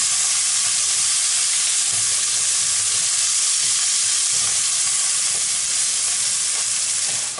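Onion half-softened in a frying pan sizzles loudly and continuously, a dense steady hiss with light crackle and no voices.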